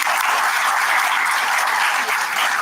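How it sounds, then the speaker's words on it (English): An audience at a school welcome function claps for a boy, a loud, dense, continuous burst of applause close by with no voices over it. "Put a clap for this boy."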